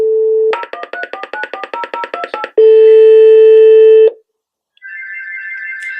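A Doro 347 phone gives a steady dial tone, then a quick run of keypad tones, another held tone, a short silence, and a ringing tone begins, loud and close.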